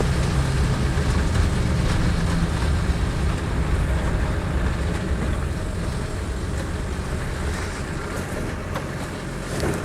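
A Nissan 2.8 turbodiesel engine fitted in a Land Rover 90 with 134,000 miles runs steadily nearby, giving a loud, continuous low rumble and clatter that stays even throughout.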